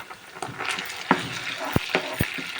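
Ginger paste fries in a hot pan with a steady low sizzle, broken by several sharp scrapes and knocks as a spoon stirs it.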